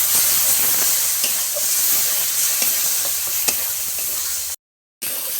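Poppy seed and mustard paste with green chilli, ginger and cashew sizzles steadily as it is stirred and sautéed in a pan for a pabda fish curry, with scraping spoon strokes, close and loud, briefly cut to silence near the end.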